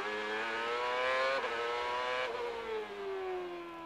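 Juan Pablo Montoya's Lola Indy car at Laguna Seca, heard onboard as its engine screams loud and close, climbing through gears with two quick upshifts before the pitch starts to fall away.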